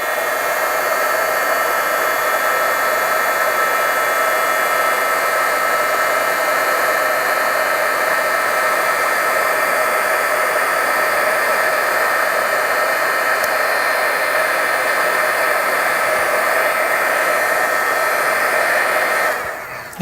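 A heat embossing gun blows nonstop over fabric to melt embossing powder, a loud, steady, even whir and rush of air held for about twenty seconds before cutting off at the very end.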